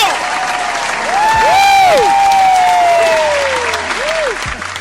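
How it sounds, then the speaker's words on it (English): An audience claps loudly and steadily, with a few whistles and shouts over the applause. "can we just have a round of applause for Ms. Linda Stokes?"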